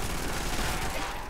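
Dense, continuous automatic gunfire in Call of Duty: World at War zombies, a loud unbroken burst filling the moment with no voices.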